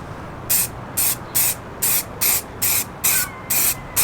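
Short aerosol bursts of clear lacquer spray paint on a Mk2 Focus ST car, around eight crisp, evenly spaced hissing puffs heard up close, alone with no voices.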